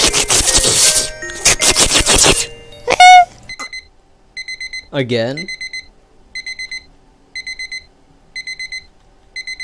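An alarm clock in a video game rings in short, regular bursts of high beeps. They repeat steadily after an opening stretch of noisy sound effects, and a voice speaks briefly among them.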